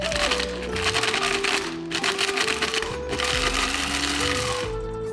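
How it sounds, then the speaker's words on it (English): Small electric spice grinder blitzing chopped dried chilies into fluff for a Thai sweet and salty fish sauce dip, a loud steady whirring motor drone that shifts pitch as the contents break down, running continuously without talk. "blitz in a spice grinder into fluff like this."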